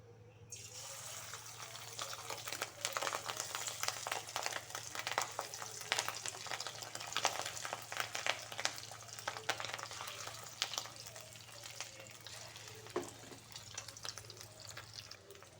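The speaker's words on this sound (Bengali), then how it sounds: "এবারে আমি ডিমের বড়াগুলো ভেজে নেব।" Fish egg fritters frying in white oil in a wok, a steady crackling sizzle with dense popping and spitting that stays even and fairly close throughout.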